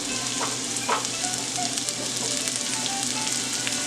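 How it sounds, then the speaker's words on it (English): Vegan ingredients for a brisket grilled cheese get a quick sauté in a pan, producing a steady loud sizzle and crackle with a few soft stirring scrapes, no voices. "I'm just going to give this a quick saute. Just to wilt, lightly brown"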